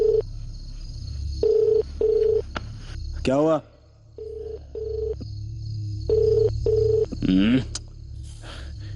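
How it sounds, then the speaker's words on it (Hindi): A telephone call is placed in a dubbed action film. Repeated pairs of short ringback beeps are interrupted by two warbling electronic ring bursts, with a brief spoken line in between. "मनोहर को फोन लगा जल्दी।"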